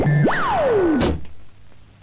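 A thrown cirit javelin lands with a single solid thunk, preceded by a springy, cartoonish rising-and-falling whoosh, with a faint tail afterward.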